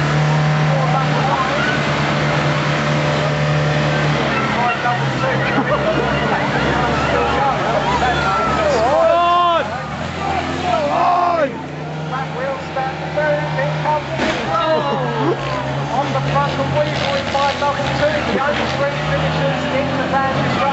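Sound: vans racing at a banger race

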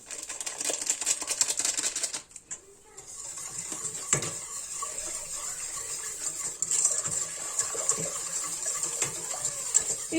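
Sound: whisking cake batter with vanilla in a pot

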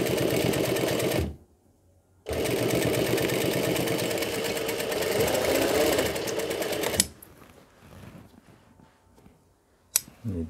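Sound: sewing machine stitching a box pleated gown bodice

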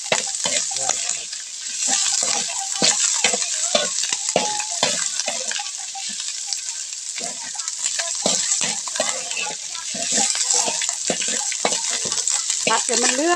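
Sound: stir-frying duck meat in a pan

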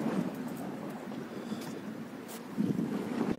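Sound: ship on the water near a park in Istanbul

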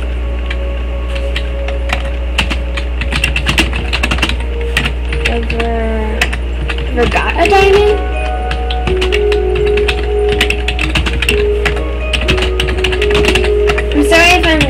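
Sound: typing on a computer keyboard

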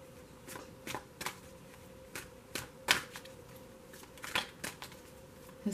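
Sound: shuffling Angel Romance tarot card deck

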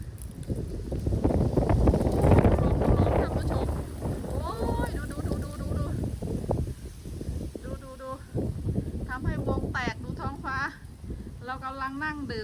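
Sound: wind blowing outdoors

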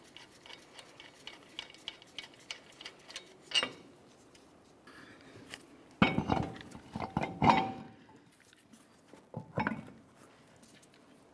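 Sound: removing safety lug nut and spacer from Nissan Titan hub

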